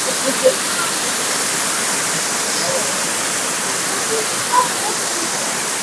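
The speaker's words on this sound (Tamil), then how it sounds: "பாருங்களேன் எவ்வளவு தண்ணி ஓடுதுன்னு." Loud, steady rush of flowing water fills the whole clip, a dense broadband roar like a nearby waterfall or torrent with no pauses.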